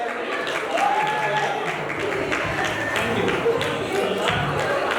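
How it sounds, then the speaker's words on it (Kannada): A crowd at a vote-of-thanks event claps for Ratna, a steady, dense spread of applause from many people, with some murmuring and a few voices mixed into the ongoing clapping. "ರತ್ನ ಅವ್ರಿಗೂ ಒಂದು ಚಪ್ಪಾಳೆ."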